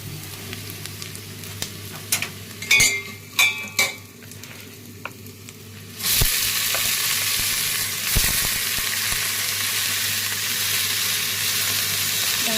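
A few scattered clinks and scrapes open before food hits a hot pan on a stove, then a loud, continuous frying hiss runs on with occasional stirring scrapes.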